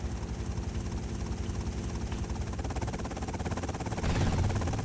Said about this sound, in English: Oh my god, they have a helicopter, indubitably.